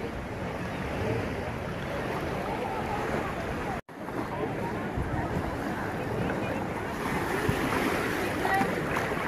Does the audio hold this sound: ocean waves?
yes